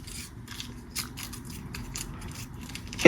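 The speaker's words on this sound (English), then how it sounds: "Can you hear me rustling over here like a little rat?" Close, crinkly bursts of rustling as a red candy wrapper is handled and torn open, uneven scraping crackles that end with a louder crunch.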